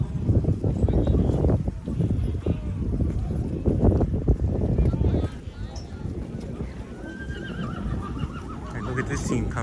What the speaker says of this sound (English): Look at this team coming in. I think there's 1, 2, 3, 4, 8. I think there's 12 horses on this hookup.